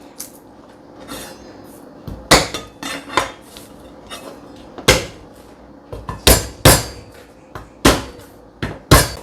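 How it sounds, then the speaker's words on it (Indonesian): Garlic cloves being smashed with a pestle or mallet in a kitchen: a string of about ten hard, irregular thuds and knocks, some landing close together in pairs, loud and close with no talk. "kita geprek bawang putih"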